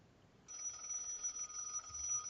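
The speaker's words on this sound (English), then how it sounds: "Is that the alarm to go, or? That's the Obama phone." A phone alarm rings with a steady, bright electronic tone that starts abruptly partway through and continues without pause, fairly faint against low room noise.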